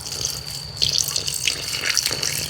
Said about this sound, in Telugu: ఇగురుకు సరిపడే విధంగా కొంచెంగా నీళ్ళు వేసి కలుపుకుంటా ఉందాం